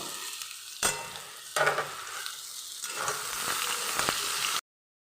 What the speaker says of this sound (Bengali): সবজিটা একটু ভালো করে ভাজা ভাজা হয়ে গেছে